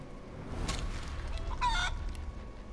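A chicken from a polymorph spell clucks and crows in the fantasy game Divinity Original Sin 2. It makes two short, clear calls over a low background hum, with no talking.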